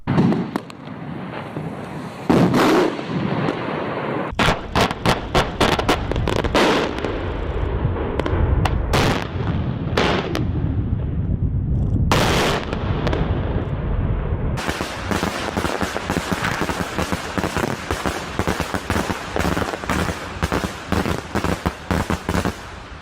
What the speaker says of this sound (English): this is what daytime fireworks look like